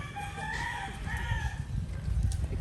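A rooster crows with a drawn-out call over low clucking from chickens nearby, among poultry delivered in Davao del Norte; fairly close and steady, with no voices.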